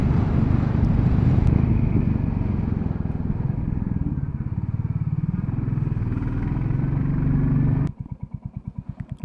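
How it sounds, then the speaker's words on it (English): Royal Enfield Classic 350 single-cylinder motorcycle riding on a road on the Isle of Mull, its engine thumping steadily with wind rush, then settling into a slow, even idle pulse near the end. "This is a great bike. I love this wee bike. It's fantastic for these roads."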